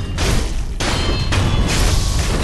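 Gunfire striking a raised shield in Elden Ring's DLC, a run of loud booming impacts and bursts in close succession, dense and heavy throughout with brief gaps between volleys.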